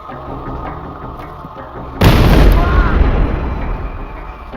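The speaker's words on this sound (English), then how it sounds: "The explosion seriously wounded him." A mail bomb going off in a university computer science department's coffee room: a sudden loud blast that cuts in over a low mechanical background and rumbles on as a broad, sustained roar.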